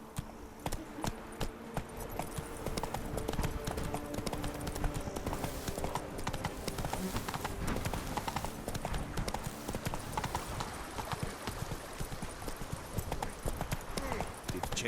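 Roach, a horse in The Witcher 3 video game, gallops with steady, rapid hoof clip-clops that run the whole stretch, loud and close, with game music and a voice mixed underneath.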